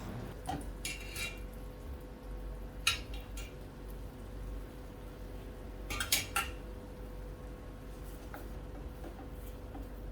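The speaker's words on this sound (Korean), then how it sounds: "여기에 삶은 스파게티 넣고 잘 섞어서 마무리해 줍니다." Boiled spaghetti being tossed into gambas al ajillo in a pan, with scattered metallic clinks and scrapes of utensil against pan over a steady low sizzle, a few louder knocks near the middle and end.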